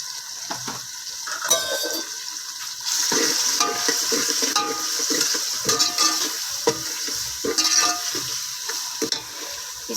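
Spices being stirred and mixed in a pot for chana pulao, with turmeric and whole cumin among them: a steady sizzle under repeated scraping and clinking strokes of a spoon against the pot, close and fairly loud throughout.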